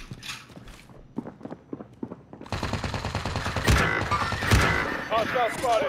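Call of Duty: Modern Warfare gunfire crackles in rapid bursts and scattered shots, building into dense, louder firing with sharp blasts, while players talk over it.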